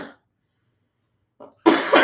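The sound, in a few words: coughing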